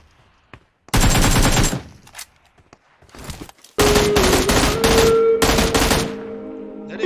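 Bursts of automatic gunfire in PUBG Mobile, loud and close, with a short volley followed by a longer sustained spray of rapid shots and lingering tail, no talking over it.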